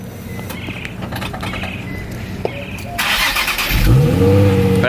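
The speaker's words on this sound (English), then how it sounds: "so this is an actual cold start." A Nissan 350Z with a custom single-exit exhaust idles roughly at first, then cranks on a cold start and catches into a louder, steady running rumble close by.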